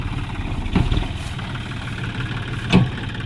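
A tractor engine runs at a steady, low rumble while crossing a rough field road, with two louder bumps or revs spaced a couple of seconds apart, and no one speaking.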